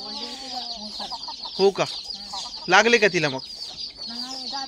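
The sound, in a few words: hen clucking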